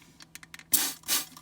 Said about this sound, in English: hit a spray bottle, water.